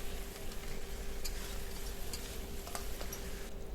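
Fish heads fry in spiced oil in a pan for a large batch of mung dal, a soft continuous sizzle with scattered scraping ticks of stirring, faint and steady.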